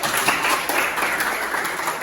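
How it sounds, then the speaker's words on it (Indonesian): A classroom of students gives a quick round of applause for a classmate named Elis during an anecdote-text lesson, a brief, steady patter of many hands clapping at moderate loudness. "Tepuk tangan untuk Elis dulu"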